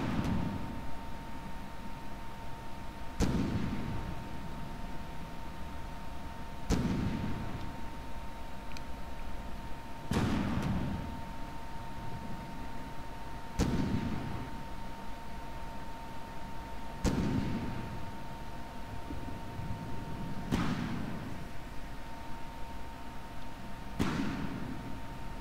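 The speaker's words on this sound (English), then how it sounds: "Fire the guns!" Secondary guns fire in the naval building game From The Depths, heavy booming shots repeating at a steady pace about every three and a half seconds over a constant mechanical hum, with no talking.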